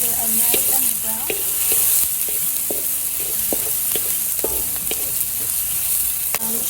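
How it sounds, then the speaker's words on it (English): Diced onions sautéing in oil in a pan, a steady broadband sizzle with occasional clinks and scrapes of a spoon stirring, close and continuous with no voices. "Now I'm gonna add the onions to it. So I'm just gonna saute them until they are nice and brown"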